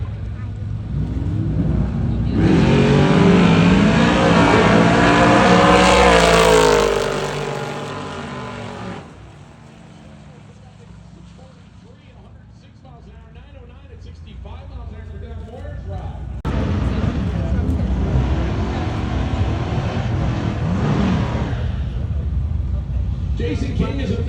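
A 1955 Chevy wagon drag car's engine roars loudly at close range, rising in pitch as it revs, drops away, then returns with another sustained loud run, with a voice talking during the quieter gap.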